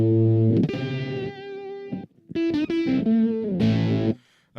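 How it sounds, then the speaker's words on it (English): A Fender Strat runs through a Fender Blender fuzz pedal with boost and blend engaged, giving a thick, wobbly distorted tone as sustained notes and short phrases ring out loud and close, ending in a brief gap. "so it sounds like a distortion pedal underwater."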